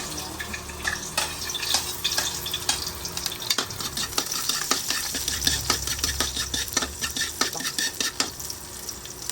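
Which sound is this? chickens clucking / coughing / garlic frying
garlic frying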